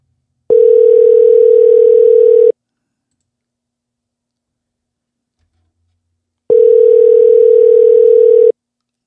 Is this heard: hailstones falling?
no